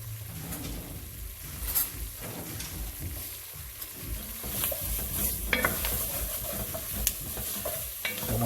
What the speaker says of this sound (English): While that's going, I'm going to add a little bit of minced garlic.